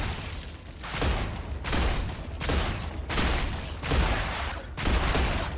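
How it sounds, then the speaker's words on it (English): Repeated bursts of gunfire in the sci-fi video game StarRupture, five or six loud broadband volleys each lasting about half a second with brief gaps between, dense and close over a low rumbling background. "And now all that gunfire is going to attract more of them."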